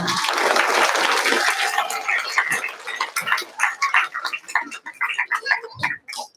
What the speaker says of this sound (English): We can give these young men and women a round of applause